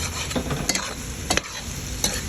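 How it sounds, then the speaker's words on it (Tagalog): Egg and bitter gourd (ampalaya) being stirred in a hot frying pan: a low sizzle under a few sharp spatula scrapes and knocks against the pan, close up, with no talking. "So, halo ulit para makita natin na luto na ang itlog."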